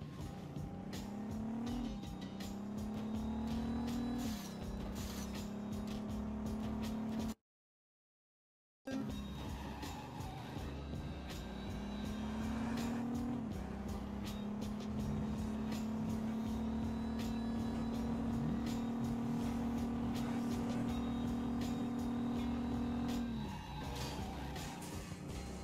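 A police car driven through New York in the video game Driver Parallel Lines, its engine droning steadily with rising and falling revs, tire noise and music-like tones layered over it, briefly cut to silence midway.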